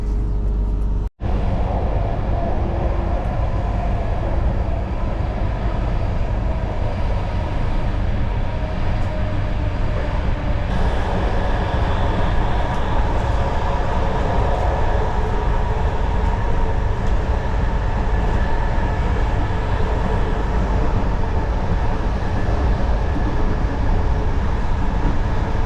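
A passenger train rolls from Istanbul to Sofia in a loud, steady interior rumble of wheels and carriage noise that goes on without a break, with no talk.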